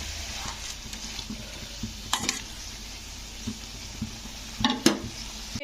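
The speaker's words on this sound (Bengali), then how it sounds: "শাক সেদ্ধটা দিয়ে শাকটাকে একটু এই সবজির সঙ্গে কষে নেব।" Boiled leafy greens (note shak) being stir-fried with vegetables in a pan, giving a soft sizzle under repeated scraping strokes of a spatula and a few sharper clinks, close by, with no talk.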